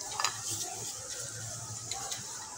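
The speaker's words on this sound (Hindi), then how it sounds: "तो अब हम इसमें 1 चुटकी हींग, थोड़ा सा जीरा और फ्रेंड्स जो ये मसाले हमने बाउल में निकाल लिए थे ये सारे मसाले हम डाल देंगे" Hing, cumin and ground spices hit hot oil in a kitchen pan, giving a soft, steady sizzle with light stirring and clinks of a spoon against the pan throughout.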